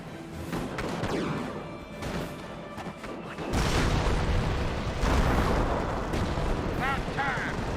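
Hotchkiss artillery barrage in a Company of Heroes battle, a dense roar of booming impacts and crashing explosions that swells midway, with a commentator talking excitedly over it throughout.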